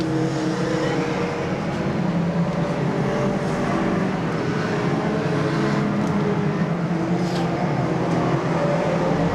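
Formula 4 division race cars lap Seekonk Speedway in June 1994, a dense, continuous engine roar from several cars heard from the grandstand at an even, loud level throughout.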